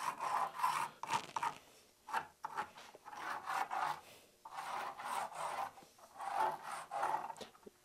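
A pencil traces a shape directly onto raw wood, heard as close, rhythmic scratchy rubbing strokes in repeated bursts with short pauses between them.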